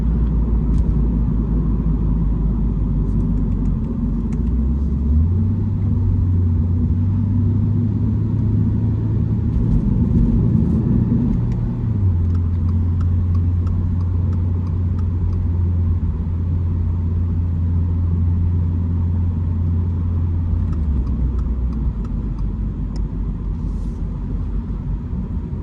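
A Toyota GR86 automatic in track mode, 2024 model, driving with a steady, loud engine drone and low road rumble inside the cabin. Engine pitch steps up and holds, then drops back, with no voices.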